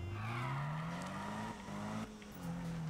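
A car in Need For Speed 2015 reverses and then accelerates, the engine note rising steadily through the gears with brief tire noise, loud and close throughout.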